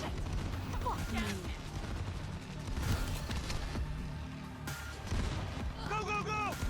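Rapid gunfire bursts crack through a Cyberpunk 2077 firefight, dense and continuous with scattered impacts, while voices talk over the shooting.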